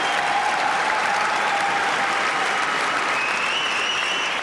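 Sustained applause from a large audience greeting Steve Jobs at an Apple event, a dense, even wash of clapping that holds steady throughout and fades slightly at the very end.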